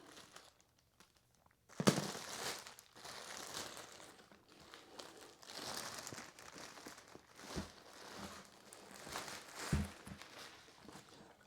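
A zip tie being cut on a Harley-Davidson motorcycle seat during installation of a new Saddlemen seat: steady close plastic rustling and crinkling, broken by a few sharp snapping clicks, with no talk.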